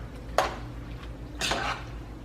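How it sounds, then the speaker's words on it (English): Mild cheddar cheese is stirred in a pot to melt it for baked mac and cheese, making two brief close scraping clinks of a utensil against the pot over a quiet room hum, with no speech. "You want to stir because the goal is to kind of melt it."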